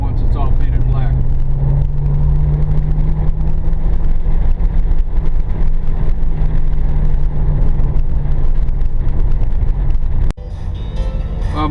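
Steady engine drone and road rumble from inside a moving car with a GoPro on a window mount, continuous and loud, with a sudden knock near the end and speech-like sounds faintly present.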